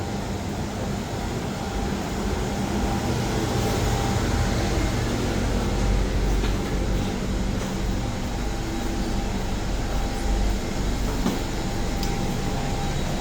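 A steady rumble and hum fill the cabin of a moving passenger train, a continuous broadband roar with faint rattles, no voices.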